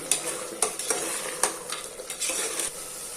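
A spoon stirs mutton masala gravy in a pan, scraping and clinking in quick repeated strokes over a soft, steady sizzle close by.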